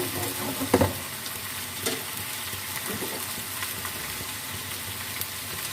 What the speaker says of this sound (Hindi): तेज़ आंच पे हमने देखें चिकन को भी और साथ में प्याज को भी हल्का सा फ्राई कर लिया है।